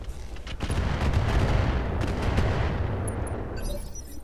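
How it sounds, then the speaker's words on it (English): A mech unloads a full weapon salvo in the Roguetech video game, a heavy, sustained barrage of booming, crackling gunfire that stays loud throughout with no talk, tailing off into scattered higher crackles near the end. "Firing a full salvo."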